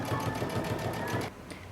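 Along the neckline of a cape, a sewing machine runs in one brief, even, rhythmic burst of stitching close by, then stops abruptly.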